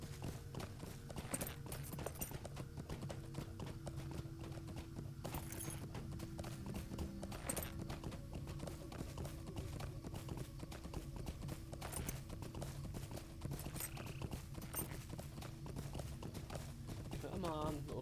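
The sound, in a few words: horse hooves clip-clopping in the video game LOTRO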